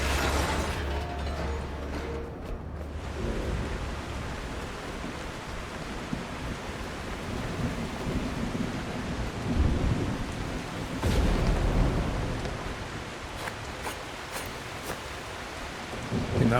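Heavy thunderstorm in The Last Caretaker, steady loud rain hiss with deep rolling thunder rumbles surging partway through, no voices.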